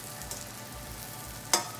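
Eggs fry Waffle House style in a hot pan with a steady soft sizzle, and a sharp spatter briefly crackles near the end.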